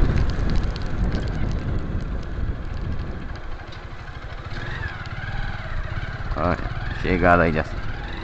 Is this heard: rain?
yes